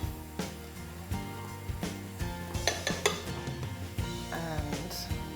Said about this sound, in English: I'm going to put all the ingredients that we've just chopped up for the salad